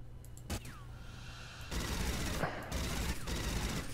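Hip-fired gunfire in Aliens: Fireteam Elite erupts as a quick shot, then sustained bursts of automatic fire, fairly faint overall.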